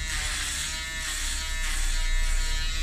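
An electric beard and hair trimmer runs continuously with a steady, close, high-pitched buzz, holding constant throughout with no voices.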